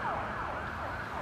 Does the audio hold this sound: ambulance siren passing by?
yes